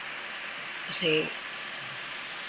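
Steady rain falls as a continuous hiss in a Calabarzon home, with a single short spoken word briefly heard over it.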